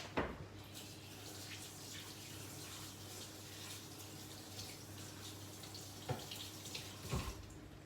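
Water runs steadily from a kitchen tap onto a tea towel, a constant close splashing stream with brief louder gushes near the start and end, no talking.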